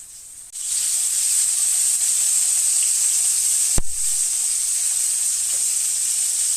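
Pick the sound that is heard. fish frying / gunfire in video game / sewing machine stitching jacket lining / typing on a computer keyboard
fish frying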